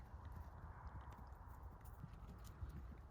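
A gaited horse's hooves clip-clop in a calm, even walk, the steady footfalls fairly faint with a brief whinny-like sound in the background.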